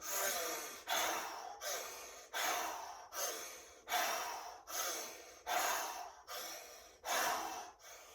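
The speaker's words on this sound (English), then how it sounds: "sucking in and out through a straw, breathing in and out through your mouth" Rhythmic yoga breathing through the mouth, as if sucking through a straw, repeats about ten times in an even cycle: each breath is a sharp, airy rush that tapers off before the next, close and fairly soft.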